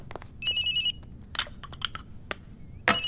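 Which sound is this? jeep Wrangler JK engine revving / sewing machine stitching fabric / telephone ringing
telephone ringing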